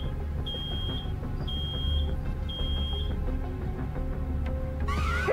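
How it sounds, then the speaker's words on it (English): An alarm in the Road 96 video game beeps in three long, steady tones, each about half a second, over a busy, loud game background with engine-like hum. "Oh no, something's beeping."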